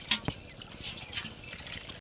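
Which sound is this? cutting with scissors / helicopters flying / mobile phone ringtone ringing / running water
running water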